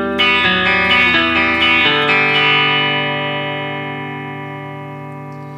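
An electric guitar plays a riff, a few bright picked notes and chords ringing out clearly and then left to sustain and fade, played alone.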